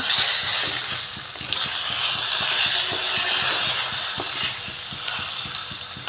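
Steady, loud sizzling of stuffed pointed gourd (potol dolma) frying in a pan, with light stirring clatter throughout and no voices.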